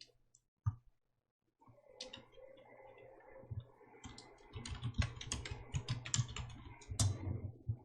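Computer keyboard typing at a steady pace, a dense run of close plastic key clicks that speeds up and grows busier toward the end, with a low hum underneath and no talking.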